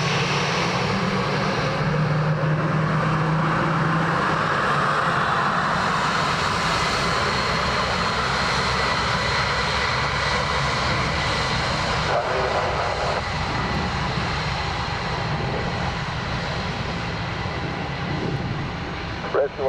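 Airplane engines roar steadily at Dublin Airport, a loud continuous drone holding through the whole stretch with a slight swell midway, under faint background voices.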